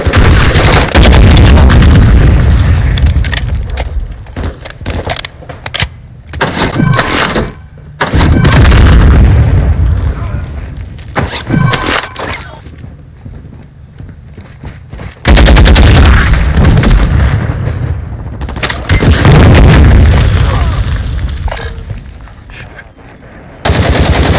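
Combat video game fight with a Semtex grenade blast and sustained gunfire: heavy, loud booms and rapid automatic fire in repeated bursts, with brief quieter gaps and shouted voices.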